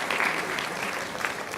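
An audience at a panel discussion applauds, dense steady clapping from many hands filling the room at moderate loudness without a break.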